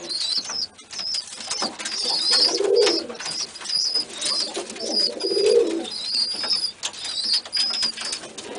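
A Birmingham Roller pigeon gives a couple of soft, low cooing calls close by, while faint chirping and some wing flutter sound around it.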